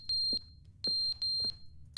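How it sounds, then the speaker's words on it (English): Loud, sharp electronic beeps from a fire alarm in the video game The Stanley Parable, sounding alone in short bursts at an uneven rhythm, with a faint low hum beneath. "Is this supposed to be like a fire alarm?"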